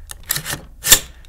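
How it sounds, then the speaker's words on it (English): A bolt carrier group for a carbine slides into the receiver with a brief metallic scrape and rub, then a sharper click-like seat near the end, close and loud with no talk. "Bolt carrier group, pop that in."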